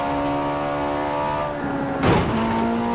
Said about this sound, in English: I actually wanted to hear you when it gears down